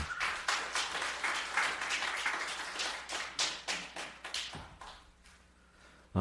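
Worship service audience applauding, a fairly quiet but steady patter of many hands clapping that thins out toward the end.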